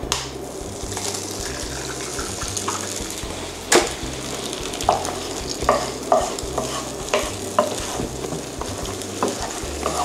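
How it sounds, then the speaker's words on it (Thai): An egg sizzles and crackles in a hot wok while a utensil stirs and scrapes, with a sharp clack and several soft knocks throughout. "เดี๋ยวเราจะลงไข่ก่อนเลยนะฮะ"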